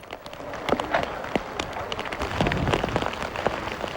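Rain falls on a hillside cemetery overlooking a valley and mountains, a steady patter of close drops tapping surfaces at moderate volume, with no voices over the sound.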